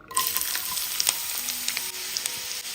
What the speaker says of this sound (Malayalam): ഇനി ബാക്കി വന്ന എണ്ണയിൽ മുക്കാൽ കപ്പ് ഉള്ളി ചെറുതായിട്ട് കട്ട് ചെയ്തതും കൂടി ഇട്ട് കൊടുക്കാം